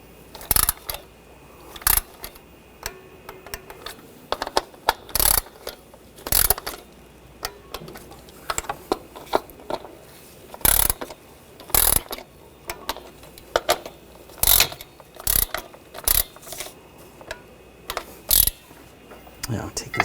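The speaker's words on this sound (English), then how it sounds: "And torque these to 62 inch-pounds." Short bursts of ratchet clicking from torquing valve cover bolts on a 2014-2020 Nissan Rogue 2.5L, repeated in close, loud spurts separated by quiet pauses, with faint low background hum.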